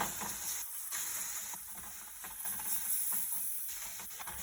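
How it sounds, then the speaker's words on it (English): Milk whisked into a roux of butter and toasted flour for a roasted garlic Alfredo sauce, giving a steady, close sizzling hiss broken by quick, rhythmic whisk strokes. "we're gonna add our milk a little bit at a time and whisk it in"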